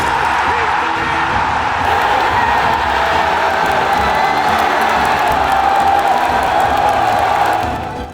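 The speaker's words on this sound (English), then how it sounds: "The crowd was going crazy for it in between like both kills." A large arena crowd at a CS2 Major esports match roars and cheers continuously, a dense wall of shouting and whooping that holds steady loud for several seconds before easing slightly at the end.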